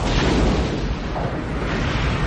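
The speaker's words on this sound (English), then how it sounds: "Roll the explosion from Star Trek 6 to save money." An explosion sound effect from the Star Trek VI film, a loud, dense roaring blast that fills the whole moment without pause.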